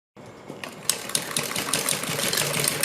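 A sewing machine runs steadily, stitching a strip onto a salwar hem, with a continuous mechanical whir and a few sharper clicks close by, no talking.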